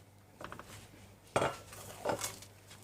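Metal spoon scraping and clinking against a pan while halwa is stirred and roasted with nuts over low heat, a few sharp scrapes and knocks with quiet gaps between.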